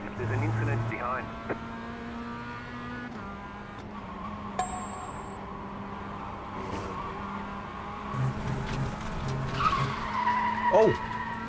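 In the iRacing sim racing game, a race car skids off the track, with engine drone and short tire squeals building toward the end while a commentator talks over the action.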